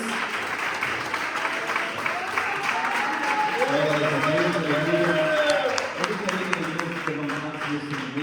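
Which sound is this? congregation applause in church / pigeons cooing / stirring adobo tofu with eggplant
congregation applause in church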